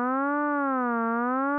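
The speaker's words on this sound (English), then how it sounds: "Our LFO is set to a sine wave, and you can hear it shifting the frequency of our initial oscillator up and down." A steady synth tone with rich harmonics from Ableton Live's Operator slowly bends up and down in pitch as a sine-wave LFO modulates the oscillator, in a smooth, wavering cycle, clean and alone.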